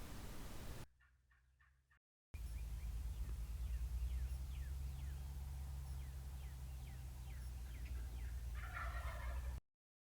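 A wild spring turkey gobbler gobbles in a field where a bowhunter uses decoys, several rapid rattling gobble bursts ringing out at moderate distance over a steady low hum, after a brief quiet gap near the start.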